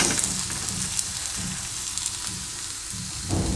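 Fenugreek uttapam cooking in oil on a pan, an even close sizzle and crackle that carries on steadily with no talking.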